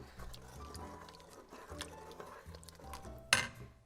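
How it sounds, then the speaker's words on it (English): A spoon stirring a vegan vegetable sabzi soup in a pot, with soft scraping and clinks of utensil against metal close by, one sharper clink near the end, and no clear talk. "Stir that in."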